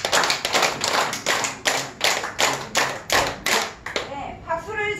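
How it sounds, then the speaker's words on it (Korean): An audience at a church laughter-healing session claps hands in unison ten times, a loud rhythmic series of sharp, evenly spaced group claps, followed by a voice starting to speak. "박수를 10번 쳐주세요."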